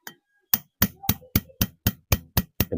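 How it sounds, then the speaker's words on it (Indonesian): A hammer striking a part of a Kubota RD65 diesel engine during crankshaft cover assembly, about ten sharp metallic blows in a steady, evenly spaced rhythm, close and alone. "Dengan cara dipukul, menggunakan palu juga boleh ya"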